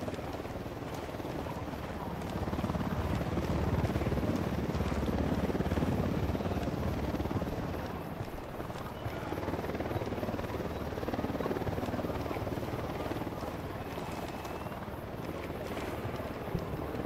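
A helicopter's rotor in the video game Ghost Recon Wildlands drones continuously and loudly throughout, a steady thudding roar with no talking over it.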